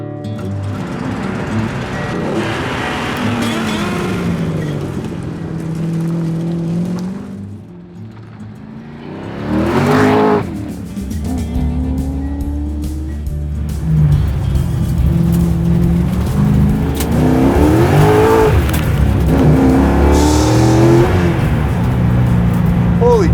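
A 650 hp track-prepped C6 Z06 Corvette roars around a track, its engine rising and falling through revs with a brief lull midway, while people talk over the loud engine from inside the car.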